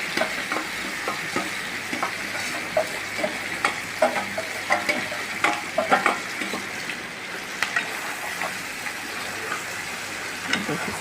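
Meat sizzles in a hot pan under steady, irregular scraping as a utensil stirs it, the frying hiss continuous and fairly close, with no voices.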